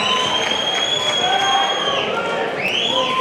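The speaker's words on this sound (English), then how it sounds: "Well, that certainly excited the crowd" Boxing crowd roaring and cheering ringside, a dense, loud wash of yells and whistles with some clapping that holds steady for a few seconds.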